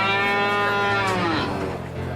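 Cattle give a single loud, close moo that slides down in pitch and trails off over about two seconds.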